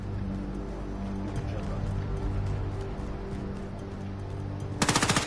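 Rapid machine-gun fire in an online squad shooter game plays at a steady level, closing with a sharp loud burst of close automatic shots near the end.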